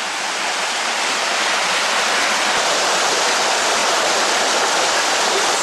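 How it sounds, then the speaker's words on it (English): Stream water pouring steadily down a natural rock channel like a sluice while hiking on the Rhine, a loud, close, continuous broadband rush with no pauses. "Perfect water flow."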